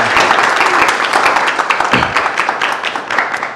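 A crowd breaks into lively applause, loud and close, with crisp individual claps standing out from the steady wash for a few seconds.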